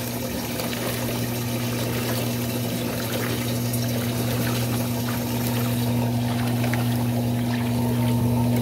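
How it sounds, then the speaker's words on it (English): A Frigidaire washing machine drains water during its Workout Wear cycle: a steady pump drone with a strong low hum and rushing water runs continuously and evenly, close by, with no talk. "There goes the drain."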